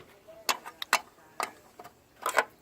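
An 8mm wrench works a bolt loose on a 2003 Ford Ranger, giving a few sharp, irregular metallic clicks and ratcheting ticks close by, with short gaps between.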